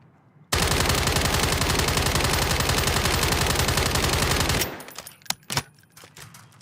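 Sustained rapid automatic gunfire from a video game rifle sprayed at a wall, a loud unbroken burst lasting about four seconds followed by a few scattered shots and clicks as it stops.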